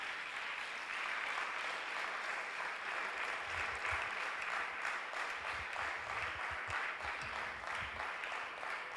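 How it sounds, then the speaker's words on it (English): An audience at a conference prize presentation breaks into sustained applause, a broad dense clatter of many hands lasting several seconds with faint low thumps beneath. "guys, big round of applause."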